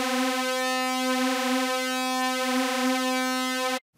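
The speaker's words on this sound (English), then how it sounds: "and five unison SAW waves with spread control." A bright, buzzy synthesizer note from a Klavis Twin Waves MkII digital oscillator with five unison saw waves and spread sustains with a rich, thick sound and slow swirling phasing, then cuts off abruptly.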